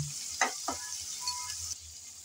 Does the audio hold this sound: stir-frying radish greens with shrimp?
yes